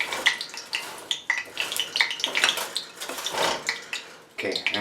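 A spoon scrapes and clatters rapidly around a bowl of potato pancake batter for German Kartoffelpuffer, close and busy, with no talking.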